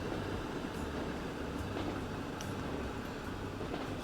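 Train rolling on rails in the game Transport Fever 2, a steady low rumble of wheels and wagons with faint intermittent clicks, moderately quiet and continuous without speech.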